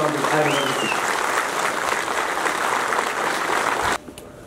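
A large audience claps steadily for several seconds at a political comedy speech rally in Nepal, with a voice briefly heard over the dense applause before it drops away sharply.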